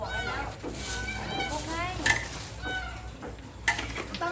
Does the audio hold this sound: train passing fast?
no